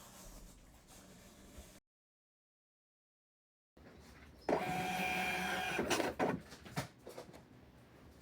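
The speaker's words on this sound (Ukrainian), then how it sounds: "Бачимо, принтер відрізав." A small printer whirs in a short burst, followed by clicking and clunking mechanical sounds as the paper is cut, after a brief silence.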